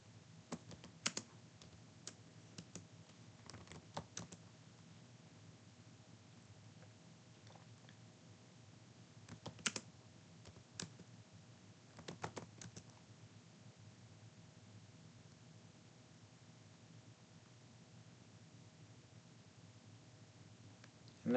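Fingers typing on a computer keyboard to enter a wrong password, scattered quiet clicks in short bursts with pauses between, close and faint over a low steady hum.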